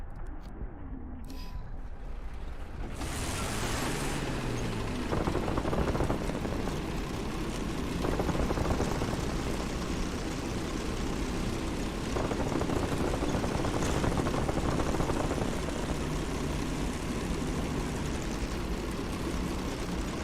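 Helicopter rotor and engine noise from a video game, a steady broad drone holding for the whole stretch with a faint whine rising and falling near the start and no talk over it.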